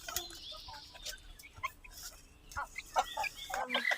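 Rhode Island Red chicks peep and cheep in short, scattered bursts close by, mixed with a few clucking fowl sounds over a faint background.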